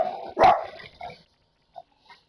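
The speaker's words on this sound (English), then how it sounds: "Dogs are fired up about this draft." One loud, close dog bark followed by a shorter bark, then two faint, brief yips fading out into quiet.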